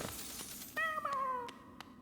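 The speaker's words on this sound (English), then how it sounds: "the Magic is standing over there meowing for some reason" A pet cat named Magic meows once, clear and fairly close, a drawn-out falling cry that rises above a faint background with a few soft clicks.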